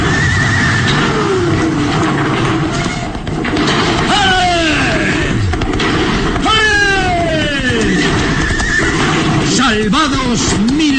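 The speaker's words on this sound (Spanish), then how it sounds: "El puente se derrumba en su totalidad justo en el momento en que Calimán impulsa a los caballos a llegar hasta el otro lado." Horses whinny loudly as they are driven across a collapsing bridge in a dramatized radio-style scene, with crashes and rumbling beneath, and a narrator talking over much of it.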